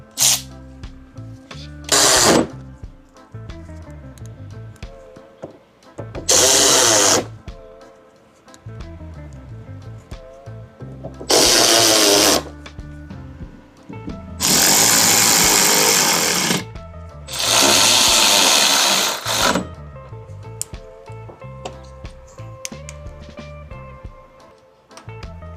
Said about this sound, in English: putting the bumper back together, putting all the screws back in